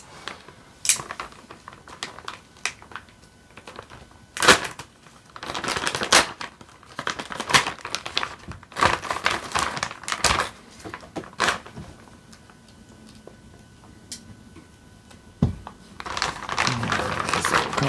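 Plastic bag holding snorkel parts for an Element RC Enduro Bushido crawler being handled and opened, with irregular close crinkling, rustling and sharp crackles spread through the whole stretch, louder bursts among quieter handling.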